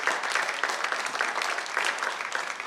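Audience applause at a talk event, steady broadband clapping that fills the whole stretch at a moderate, even level with no voices over it.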